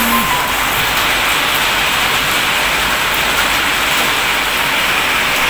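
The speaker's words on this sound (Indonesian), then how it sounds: "Hujan." Steady rain falls throughout, a dense, even hiss of drops on a surface with no breaks, fairly loud and close, with no voices.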